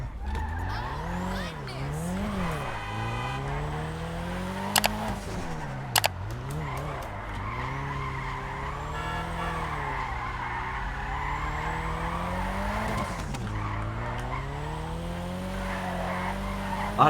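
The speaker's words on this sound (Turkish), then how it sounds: "drift atıyor. Bakın. Durmuyor ki araba." Car drifting in GTA Online, with sustained tire squeal whose pitch sweeps up and down through long slides over a steady engine drone, plus a couple of brief clicks.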